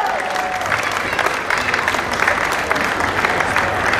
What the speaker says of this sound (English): give her a big round of applause when she comes out